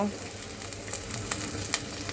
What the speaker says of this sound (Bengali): ভাজা ভাজা করতে হবে যখন দেখবে পেঁয়াজ রসুন আর কাঁচা লঙ্কাটা হালকা ভাজা হয়ে গেছে